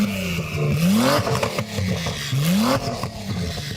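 A Nissan GT-R V6 engine revs up twice in strong rising sweeps, loud and close, then settles into a rough idle between bursts.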